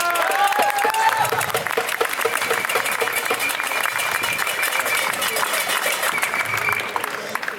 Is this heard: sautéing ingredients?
no